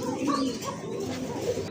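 Pigeons kept for sale coo close by in a short, soft burst of low throaty calls, with a few overlapping murmurs and no clear talk.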